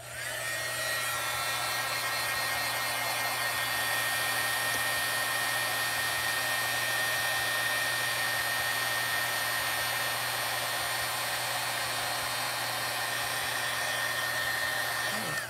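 A heat tool blows a constant, loud, even hum and rush of air while melting clear embossing powder on a cardmaking project, running alone without any voices.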